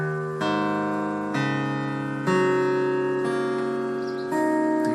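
An acoustic guitar in standard tuning dropped a half step, strummed in several sustained chords that each ring out before the next, up close with no talking.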